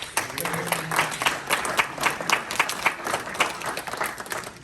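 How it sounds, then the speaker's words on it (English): An audience at a family reunion applauds steadily, with dense clapping and scattered cheers that swell and ease over a few seconds. "Let's give ourselves a round of applause."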